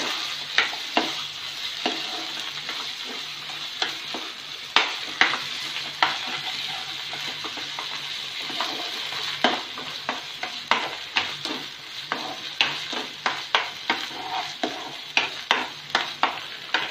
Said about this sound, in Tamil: இப்போ இந்த நெய்யிலேயே போட்டு ஒரு